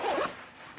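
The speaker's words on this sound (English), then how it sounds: "just unzip one side. You don't have to unzip both." A plastic zipper with a metal pull on a Louis Vuitton windbreaker jacket is drawn open in one quick, close, fairly loud rasp lasting about a quarter second, then only quiet room tone.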